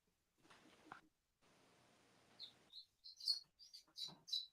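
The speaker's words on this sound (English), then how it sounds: "It did sound like a bird." A newly hatched chick gives a run of thin, high chirps, close and soft, several in quick succession after a brief stretch of low rustling.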